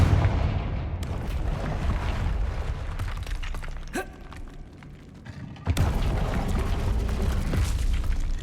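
A Confringo explosion spell cast in Hogwarts Legacy: a rising whoosh, then a sudden loud blast that rolls into a sustained roaring rumble before fading.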